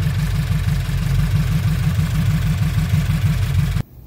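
A Scion FR-S idles steadily after a used replacement engine is swapped in, with an aftermarket Tomei UEL header fitted. The idle is loud, close and rhythmic and cuts off abruptly near the end.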